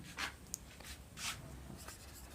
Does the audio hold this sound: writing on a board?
yes